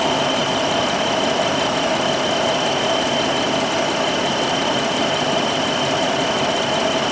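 A rebuilt engine in a 2007 Jeep Wrangler idles steadily with a heavy, even rumble and constant vibration, the whole block shaking as if badly out of balance or on a bad motor mount; no voices.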